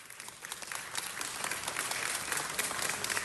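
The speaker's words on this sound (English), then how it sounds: "let's give them all a big round of applause" Audience applause at a city council meeting, steady dense clapping from a room of people, moderately distant and building slightly over a few seconds, with no talk over it.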